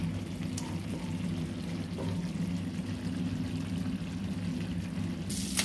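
Cream is poured into kaju chicken cooking in a pan, giving a steady liquid pour over a low background hum, ending with a brief brighter splash.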